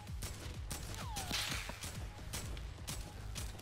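Shotgun fire in the Fortnite video game: several sharp, close blasts land in quick succession over a steady game backdrop, with a brief whooshing sweep in the middle.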